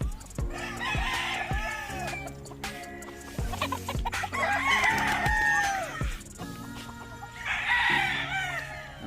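Chickens cluck and a rooster crows in repeated bursts, with steady background clucking from a flock close by on a gamefowl farm.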